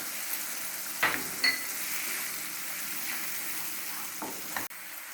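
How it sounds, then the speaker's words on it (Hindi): A spice masala for Kashmiri dum aloo fries in a pan in a steady close sizzle, with a few sharp scrapes and taps as the spoon keeps stirring it. "तो इसको हमें लगातार चलाते हुए इसको भूनना है अच्छी तरह से।"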